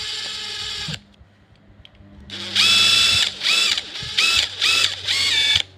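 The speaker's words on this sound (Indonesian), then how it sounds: "kita bantu putar menggunakan impact driver" An impact driver spins a stiff Regency ZDLX-06 mini desk fan in loud, close whirring bursts: one long run, a pause, then a steady spin and several short stop-start pulses.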